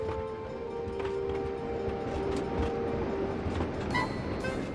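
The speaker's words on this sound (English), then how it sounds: "Far off in the mountains, a cheerful little whistle echoed through the canyons." The whistle of a little cartoon train engine in a Western desert canyon setting sounds as thin tonal blasts over a continuous rolling rail rumble, with a brighter whistle note near the end.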